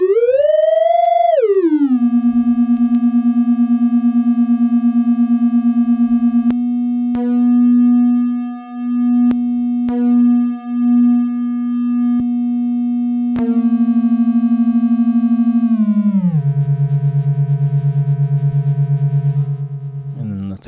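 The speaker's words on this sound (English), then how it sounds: "I have one audio rate oscillator from this going into the right and the other one going to the left." Ciat Lonbarde Cocoquantus audio-rate oscillators, one panned left and one right, produce a loud sustained buzzy tone that glides down, holds steady with brief wobbles and dropouts, then steps lower near the end.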